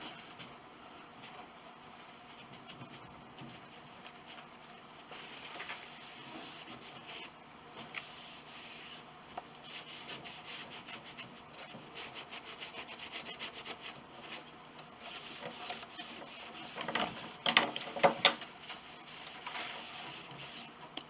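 Shellac being brushed onto the sanded soundboard of an 1867 Chickering 33B piano: soft, repeated scraping and rubbing strokes at low level, with a few louder brushing sweeps near the end.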